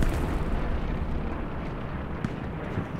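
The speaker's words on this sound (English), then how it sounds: "you can snipe it with a rocket" Rocket explosion in the World War II shooter Hell Let Loose, a sustained loud, dense rumbling blast that fills the whole stretch with low booming roar and a few sharper cracks, with no talking.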